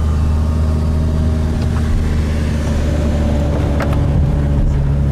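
Engine note of a sports car, a Ferrari 488 GTB or a Lamborghini Huracan Spyder with a V10, droning loud and steady from close by, with a low rumble that holds throughout and no talking.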